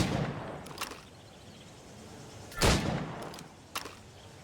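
Gunshots fired at targets in the video game Assassin's Creed Rogue: a few sharp, separated shots, one loud burst near the middle and fainter cracks before and after, over a low ambient bed.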